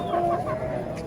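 Chickens and roosters at the Shoro poultry bazaar in Tashkent give a brief burst of close clucking over a busy market murmur.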